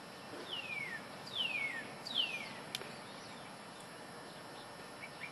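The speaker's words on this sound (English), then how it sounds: "You can hear the birds singing out here." Three descending bird whistles come one after another in the first half, fairly faint against a quiet outdoor background, followed by a couple of softer chirps.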